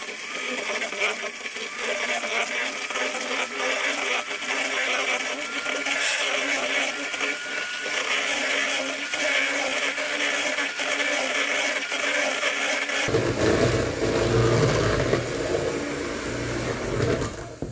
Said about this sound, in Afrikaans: Dan klits jy dit tot jou suiker lekker opgelos is.